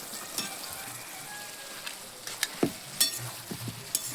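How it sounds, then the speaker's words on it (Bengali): Katla fish heads fry in a pan, a quiet steady sizzle broken by sharp spits and crackles and a few clinks of a utensil. "এই যে ভাজা ভাজা হচ্ছে, ভাজা ভাজা হচ্ছে"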